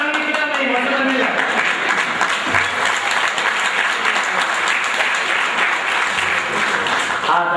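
An audience at a retirement function bursts into loud, sustained applause, a steady wall of many hands clapping close by, with a voice faintly audible beneath it.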